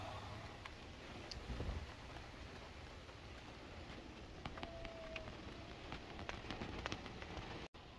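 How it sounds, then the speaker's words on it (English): Steady rain falling outside, a continuous soft hiss of drops on surfaces with faint scattered ticks, heard from indoors near a window, no voices. "It's raining."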